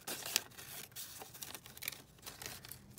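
Paper is cut down for a junk journal, giving soft, irregular snips and crinkles in quick succession, close and fairly quiet, with no talk.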